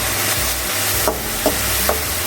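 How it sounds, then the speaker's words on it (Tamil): Chopped tomatoes sauté in a pan while a dry fish gravy is cooked, giving a steady frying hiss broken by three short stirring scrapes. "தக்காளி நல்லா வதங்கட்டும்."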